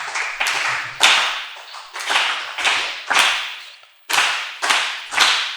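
Audience at a Jain religious discourse claps in three quick rounds of three sharp, ringing claps each, evenly spaced and fairly close, with no talking.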